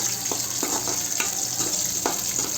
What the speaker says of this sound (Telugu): సో ఆనియన్స్ మంచిగా ఫ్రై కావాలి సార్